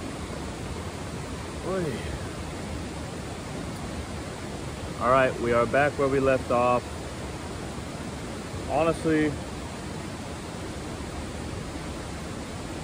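A waterfall beside a campsite in wet conditions gives a steady, even rush of noise throughout, while someone speaks briefly over it.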